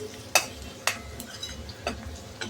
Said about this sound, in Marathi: थोडासा लसूण परतून घेऊया.